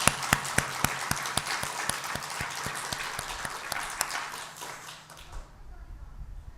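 A church congregation claps in rapid, even rhythm during a Sunday worship service, the applause moderately distant in the sanctuary, then fading out abruptly near the end.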